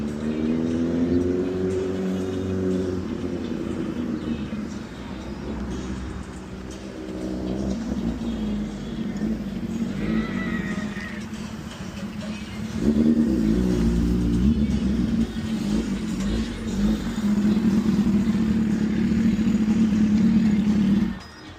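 A motorcycle engine rumbles close by as it arrives at a Mustang Week car meet, holding a steady low drone with rising revs and a louder surge near the end.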